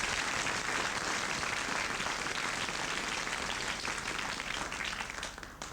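A large radio quiz show studio audience applauding steadily, dense continuous clapping that holds at full strength and only begins to thin out at the very end.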